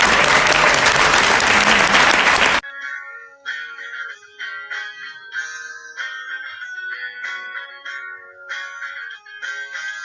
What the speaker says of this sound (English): I would request kindly an applause for them.